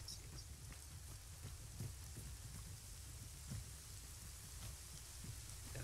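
Steady rain falls in the military video game Arma 3, a dense continuous patter with scattered distinct drops and low rumbling, heard alone without voices.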